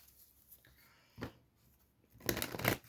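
A deck of Mermaids and Dolphins oracle cards is shuffled by hand, a quiet brief riffle followed by a louder, longer burst of card shuffling close by.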